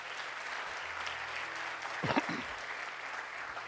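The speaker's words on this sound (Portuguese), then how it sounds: "Aplauda o Senhor Jesus." A church congregation applauds during a sermon, a steady, fairly distant wash of clapping, with a voice briefly breaking through in the middle.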